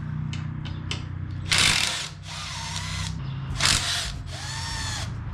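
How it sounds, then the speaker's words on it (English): A power tool whirs in several short bursts while bolts are taken out of a motorcycle to remove its stock air breather, each burst high-pitched and close, with brief quiet gaps and faint clicks between them. "I'm basically just taking all these bolts out just so I can get the stock air breather off."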